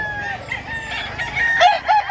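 Roosters and hens in Mantalungon, Barili, Cebu crow and cluck in overlapping calls, with a sharp crow rising near the end over a low background hum.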